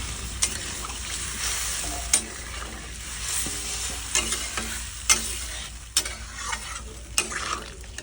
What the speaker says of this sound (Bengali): কষানো হবে আর কি পনিরের সবজিটা